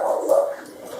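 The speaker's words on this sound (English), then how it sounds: "Barking at roll top." A dog barks and whimpers at close range at a heavy roll top desk indoors in a newly bought house, with a loud yelping burst early that tapers into softer whining and no talk.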